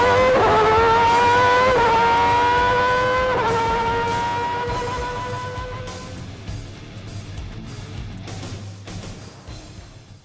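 A race car accelerates through a fast corner at Suzuka, its engine note climbing in pitch through several quick upshifts, then fading into the distance as it pulls away.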